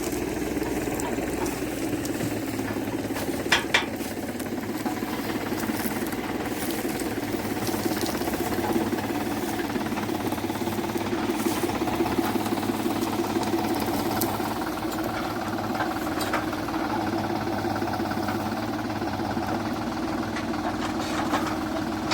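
A heavy tractor loader engine idles and chugs steadily throughout at a beet field, with a constant low drone, a few faint knocks and clatters over the top.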